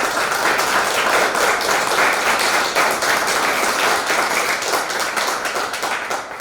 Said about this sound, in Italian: Allora abbiamo prima di tutti Renato Rossi, a cui farei il primo applauso.